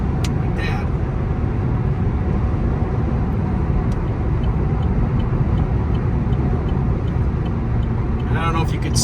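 A 2015 Chevrolet SS accelerates from about 50 to 90 mph with a quick downshift, heard from inside as a steady, loud road and engine roar that holds throughout with little change.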